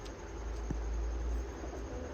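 Golden pigeons at a pigeon sale in Tarn Taran coo softly in low, continuous murmurs over a steady background hum, with a single brief knock partway through.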